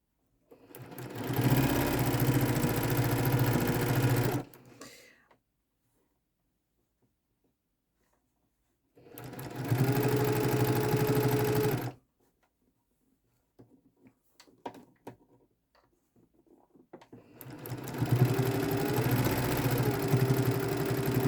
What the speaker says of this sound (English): place that under the sewing machine. Do a couple stitches